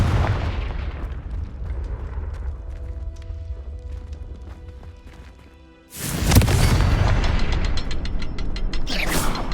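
A Confringo explosive spell in Hogwarts Legacy, a sudden loud blast about two-thirds through, following a quieter stretch of clicking, ratcheting mechanical sounds, then crackling and rattling after the impact.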